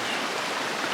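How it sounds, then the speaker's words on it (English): Creek water flowing at a trail crossing of Larson Creek on the Continental Divide Trail, a steady close rushing wash with no pauses. "Crossing Larson Creek."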